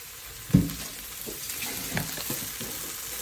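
Potato and corned beef frying in a pan, a soft steady sizzle with a sharp scrape of the stirring spoon near the start and a few lighter stirring knocks after, no voices.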